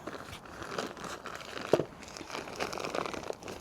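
Soggy plastic bags of garden mix being slit open, giving a close, steady crinkling and rustling with a few sharper tearing crackles, no talking.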